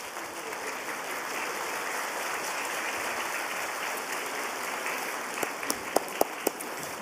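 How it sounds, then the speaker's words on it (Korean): Congregation applauding during a Sunday worship service in a church, a steady wash of clapping that holds evenly throughout, with a few sharper individual claps near the end. "우리 뜨거운 박수로 축하하고 격려하도록 하겠습니다."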